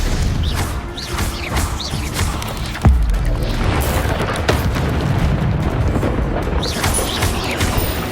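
Spell combat in the Hogwarts Legacy video game brings a dense, busy battle mix with whooshes and a single heavy boom near the middle, heard close and loud.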